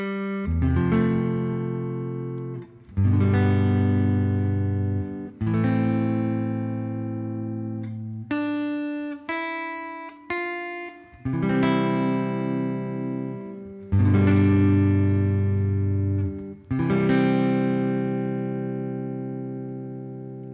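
Guitar chord melody of a song, played on the four middle strings: a slow series of ringing strummed chords with melody notes picked between them, each left to decay, clear and close with no voices.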